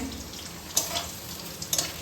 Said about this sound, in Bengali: এটা হচ্ছে আলু ভাজা